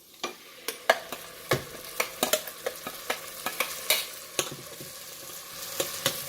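Mint (pudina) paste frying with translucent onions in a pan over a medium flame, a steady sizzle broken by repeated sharp scrapes and clacks of stirring, close and moderately loud.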